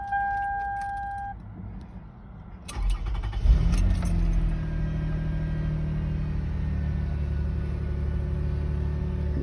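A 2005 Toyota Highlander's 3.3-liter V6 with 141,000 miles cranks after a jingle of keys and two beeping chimes, then catches and settles into a steady, close idle rumble with no talking.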